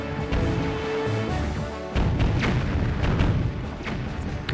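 A cannonball fired in the video game The Legend of Zelda: The Wind Waker, heard as a heavy boom followed by rumbling crashes and thuds over busy game sound.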